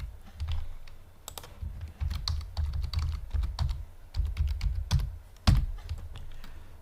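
Someone types a password on a computer keyboard, a close, quiet run of irregular key clicks with short pauses and one firmer keystroke near the end.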